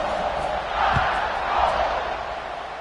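Stadium crowd roaring before a kickoff in an NCAA college football video game, a broad sustained roar that swells and ebbs, with a low thump partway through.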